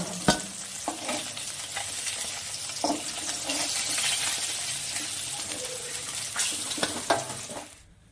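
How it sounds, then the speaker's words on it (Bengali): Katla fish frying in oil in a wok sizzles steadily up close, broken by sharp clinks and scrapes of a utensil stirring and turning the pieces, before the sound cuts off at the end. "কড়াইতে তেল দিয়ে দিলাম তেল গরম হয়ে গেছে মাছগুলো সব ভেজে নেব"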